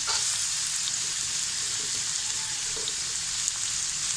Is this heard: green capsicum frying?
yes